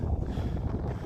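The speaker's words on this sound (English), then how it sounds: "That's windy." Wind buffets the microphone outdoors in a low, rumbling roar that fills the short stretch without any voice.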